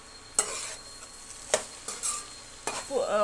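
Ingredients mixed with soy sauce and vinegar being stirred in a pan, a few distinct scraping strokes of a utensil over a faint sizzle, with a short voice at the end.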